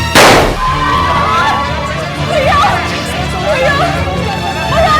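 Gunshot from a real handgun in a Hindi TV crime drama: one sharp loud bang at the start, followed by a sustained dense mix of raised voices, shouting and dramatic background music.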